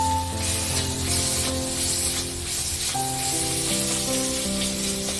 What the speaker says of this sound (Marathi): ही सुद्धा कांद्यासोबत अशी परतून घ्यायची आहे